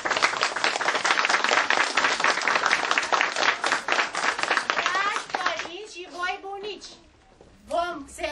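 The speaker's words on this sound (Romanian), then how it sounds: "să încurajați pe copii deoarece sunt mici și să-i aplaudați" Parents applaud the children at a kindergarten end-of-year show, with dense sustained clapping from a crowd that thins out after a few seconds, as children's voices and speech come through near the end.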